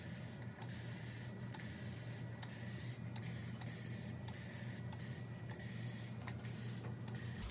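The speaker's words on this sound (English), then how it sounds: "I'm just gonna go ahead and use my handy dandy mister" A long continuous hissing spray from a plant mister, quiet and close, with brief dips every second or so as the pump trigger is worked.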